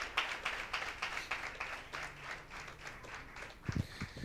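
Church congregation clapping to welcome a pastor, a faint, brief patter of scattered hand claps with a few louder claps near the end.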